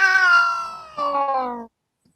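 Two cat meows played back from a phone app, loud and close, the first long and the second shorter, then silence.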